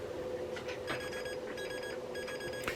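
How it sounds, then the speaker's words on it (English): Repeated bursts of high electronic beeping in a regular pattern over a low steady hum, fairly faint with no voices: startup beeps from a faulty EuroPC computer. "I do think that the beeps sounds a bit different this time"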